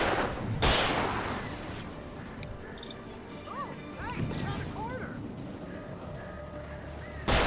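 Shotgun blasts from an enemy in the Alan Wake video game, a few loud broadband cracks spaced apart amid a busy game soundscape, with a person talking over it.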